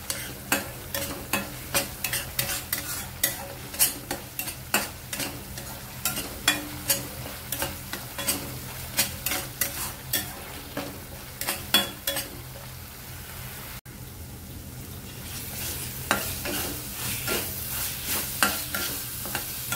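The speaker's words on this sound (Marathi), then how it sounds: "तेल सुटेपर्यंत आपला कांदा परतून घ्यायचा।" Onion sizzles in hot oil for chole masala while a spoon scrapes and stirs the pan in regular, close strokes, the frying hiss steady beneath the rhythmic clatter.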